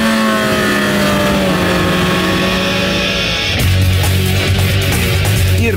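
A 2.4-litre, 178 hp petrol engine in a Suzuki Kizashi revs hard from standstill and climbs in pitch, then shifts gear and pulls on with a loud, steady roar close by.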